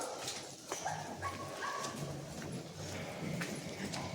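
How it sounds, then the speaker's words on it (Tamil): A house dog barks at a puppy passing by on a street in Cadiz, Spain. Short, scattered barks rise over a constant hum of outdoor street noise. "அதை பார்த்து வீட்டில் இருக்கிற இன்னொரு நாய் குலைக்குது."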